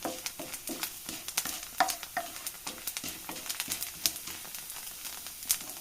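Rice grains fry in oil in a pan for Kerala-style beetroot thoran, giving a steady sizzle broken by close, irregular crackles and the scrape of stirring.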